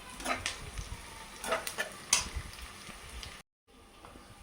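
Brinjal pieces fry in hot oil in a pan with a steady soft sizzle, broken by several clinks and scrapes of a utensil stirring against the pan.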